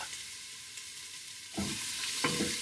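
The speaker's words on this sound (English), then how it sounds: "So you kind of stir them up so they're evenly distributed on the bottom of your pan." Chopped onions with celery are stirred around a pan for chicken noodle soup, with a faint sizzle followed by a few scraping stirs near the end, quiet and without speech.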